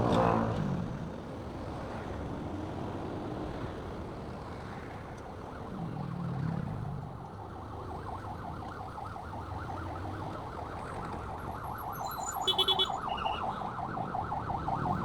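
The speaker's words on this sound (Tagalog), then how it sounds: "May ambulansya sa likod natin eh" Ambulance siren wailing behind a car stuck in traffic on a ride to San Pablo, Laguna, with a steady, cycling tone at moderate distance over road rumble and a short louder burst near the end.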